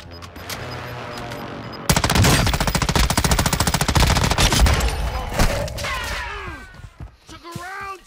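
Rapid automatic bursts from a stolen M13 rifle in a first-person shooter, a loud continuous volley of closely spaced shots followed by a few scattered impacts and electronic tones, with some talk nearby.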